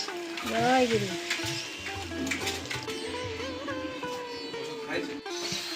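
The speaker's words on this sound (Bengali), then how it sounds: "এই যে চিংড়ি মাছ দিয়ে কিন্তু কোয়াশ ভাজা হচ্ছে" Squash and prawns frying in a pan, a steady close sizzle with stirring scrapes, while someone talks over it.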